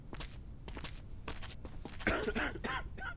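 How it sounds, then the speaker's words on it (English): A character in the zombie checkpoint game Quarantine Zone coughs: a cluster of rough, fairly close coughs near the end, after softer shuffling and footstep-like sounds. "Now, this guy is coughing."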